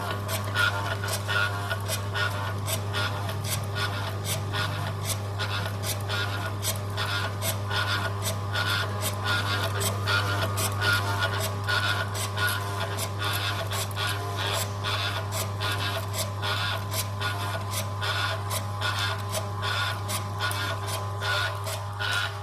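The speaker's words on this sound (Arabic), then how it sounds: "ماكينة عصر الزيوت موديل 811" Model 811 peanut oil press machine pressing seeds, a loud steady mechanical hum with a constant low drone and fast repetitive clicking and grinding running throughout.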